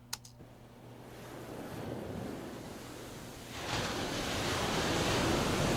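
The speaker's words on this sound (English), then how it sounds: "Ocean waves." Ocean waves roll in as a broad, steady wash of surf that swells louder toward the end, continuous and without voices.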